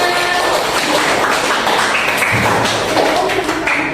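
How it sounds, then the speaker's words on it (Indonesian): Applause from a classroom group for the third team's presentation, a steady wash of clapping that runs unbroken for the few seconds, close and fairly loud. "beri aplaus untuk kelompok tiga"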